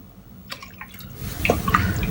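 Milk poured into the pot of an electric pressure cooker while making cream of chicken soup gives a soft, close liquid splash and trickle. It starts faint after a few light taps and grows fuller over the last second.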